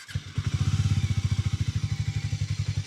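A 2026 Hero Hunk 440 motorcycle with a long-stroke engine starts up close by: a brief crank catches into a loud, steady, evenly pulsing low thump at idle.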